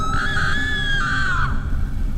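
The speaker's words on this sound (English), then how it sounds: "I was suddenly woken up by the sounds of screaming." A person screaming at night near a car parked under a highway overpass, a sustained high shrill cry lasting over a second before breaking off, over a steady low rumble of background noise.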